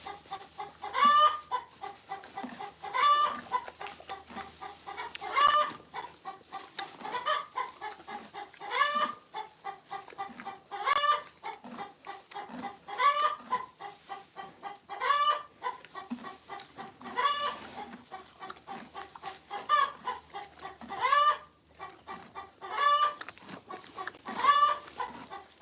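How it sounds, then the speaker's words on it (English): A chicken clucks steadily and repeatedly, with rhythmic bursts of clucking that continue close to the microphone for the whole stretch and have no talk over them. "The chicken is competing."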